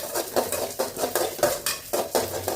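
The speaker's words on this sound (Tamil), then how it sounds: "போட்டு நல்லா கிண்டி விட்டுக்கோங்க." Dried red chillies stirred in a pan for curd rice, a rhythmic series of close metal spatula scrapes against the pan repeating about every half second over a faint sizzle.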